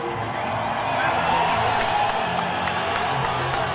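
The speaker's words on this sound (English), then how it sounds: "The crowd really getting into this one." Boxing arena crowd at a light flyweight title bout roars and cheers steadily throughout, a dense continuous wall of voices with scattered whoops and claps rising slightly in the middle.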